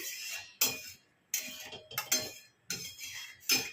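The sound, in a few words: washing a kadai (wok) with utensil clatter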